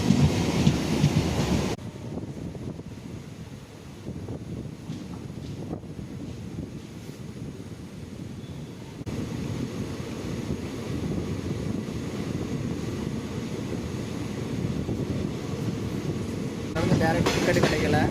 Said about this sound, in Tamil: நம்ம ட்ரெயினும் புறப்பட்டுருச்சு.